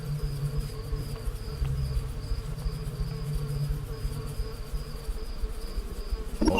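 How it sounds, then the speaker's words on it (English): Dense insect swarm in the video game STASIS, a steady buzzing hum that holds at an even loudness throughout, close and continuous with no talking. "The insects swarm in great clusters, their bodies luminous like fireflies."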